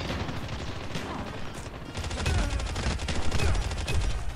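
Rapid automatic gunfire in a Call of Duty Mobile match on a Halloween map, dense and sustained bursts that grow louder midway, with faint talk under the shooting.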